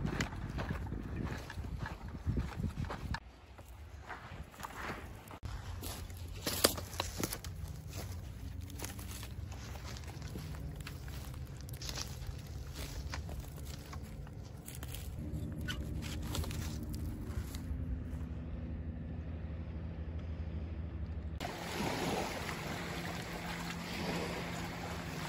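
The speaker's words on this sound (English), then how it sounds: "I hope you can hear me over the sound of the waves" Ocean waves wash onto a beach in a continuous surging roar, with low rumbling swells and wind buffeting the microphone. The level stays fairly even over the long stretch, and no one speaks.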